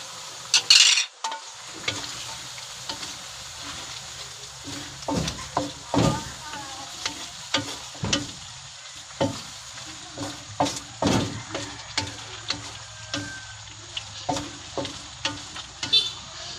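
Vegetables being stirred in a pan with soy sauce, salt, a little sugar and crushed pepper, before pancit canton noodles go in: repeated scraping, clinking strokes of a utensil over a soft sizzle, close and fairly steady.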